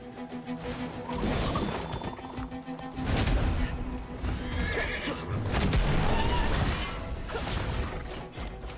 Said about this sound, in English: Bad horsey.